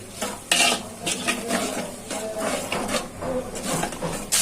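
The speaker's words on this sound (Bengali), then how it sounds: "এখন মশলাটা ভালো করে কষিয়ে নিই।" Repeated scraping and stirring in a pan with clinks of a utensil against metal, over a faint sizzle of spice paste with cumin powder frying.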